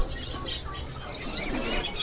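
Caged songbirds chirp and tweet at a bird seller's stall, including a female Palangka magpie-robin, with scattered light calls over a busy, noisy background.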